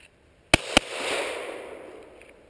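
Two quick, sharp Glock 17 pistol shots crack in close succession, followed by a long, reverberant echo that fades away.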